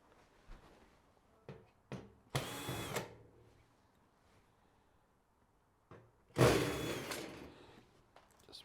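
A power driver removes Phillips-head screws from the drive assembly of a Samsung HE1 washing machine, two short whirring bursts separated by quiet handling clicks and taps.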